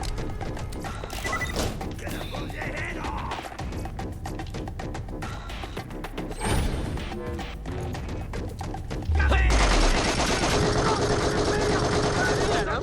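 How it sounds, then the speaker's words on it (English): A thrown grenade explodes amid rapid gunfire in the shooter Borderlands The Pre-Sequel, with loud bursts, smashes and thuds crowding together before a heavy boom and rumbling blast tail near the end. "Grenade out."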